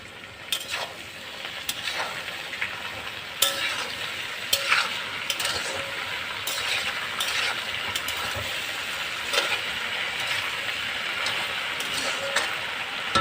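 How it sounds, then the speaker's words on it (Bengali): Half-fried okra and onion sizzling in a pan, with a continuous hiss broken by frequent sharp scrapes and clinks of stirring, close by throughout. "ঢেঁড়স আর পেঁয়াজটা হাফ ভাজা করে নিয়েছি বন্ধুরা"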